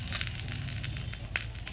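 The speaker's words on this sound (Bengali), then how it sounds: "সাবধানে করবে তোমরা কিন্তু, দেখছো তেল ছিটছে।" Chopped chili hits hot oil in a pan, producing a constant close sizzle peppered with sharp pops and crackles as the oil spatters.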